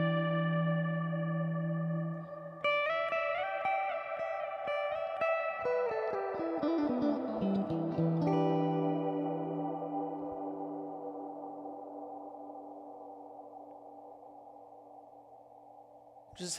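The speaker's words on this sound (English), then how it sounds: "like, almost like unlimited feedback type sound, but it's washed out with a reverb." Electric guitar through a Kemper profiler with modulated reverb rings out in sustained chords and shifting notes, swelling into a long washed-out, feedback-like tail that slowly fades, with no talking.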